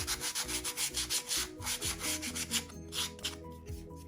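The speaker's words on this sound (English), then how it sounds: "they've provided a little bit of sandpaper to do that with, so I might as well use that" Rough wooden parts from a ship model kit are rubbed with a small piece of sandpaper, giving quiet, close, rhythmic back-and-forth scratching strokes that keep going without pause.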